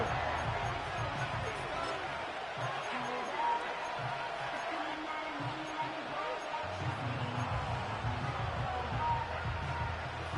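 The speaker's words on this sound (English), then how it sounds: "This crowd turning up the decibel level." Stadium crowd noise in an American football video game, a steady roar and murmur from the stands filling the whole stretch under commentator speech.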